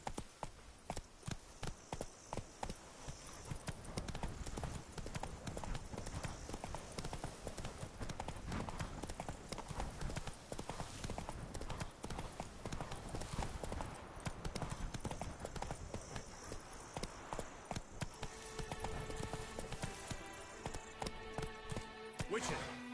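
In The Witcher 3, Roach the horse's hooves clatter in a fast, continuous clip-clop that rises and falls in loudness, with occasional voices in the background.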